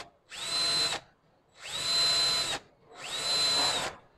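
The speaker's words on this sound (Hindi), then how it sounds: "ये इसका वेरिएबल स्पीड ट्रिगर स्विच है। इससे स्पीड कम भी होती है और फुल तेज़ भी हो जाती है।" A Dewalt DCD700 cordless drill driver triggered three times at variable speed, each burst whining up to a steady high pitch, holding briefly and cutting off, with short silent gaps between; loud and close, no talk.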